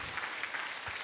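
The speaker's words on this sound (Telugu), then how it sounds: "ఒకసారి గట్టిగా క్లాప్ చేయండి." Audience of women at a TDP political rally in Gudivada, Krishna district, clapping together in a brief, dense burst at moderate loudness.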